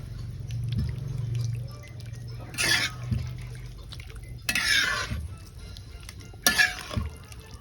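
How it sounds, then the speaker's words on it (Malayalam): Water added to a beef heart roast in a pan, followed by three short bursts of scraping and sloshing as it is stirred. "അങ്ങനെ വെള്ളം ഒഴിച്ചിട്ട് നല്ല ഒന്ന് ഇളക്കാം."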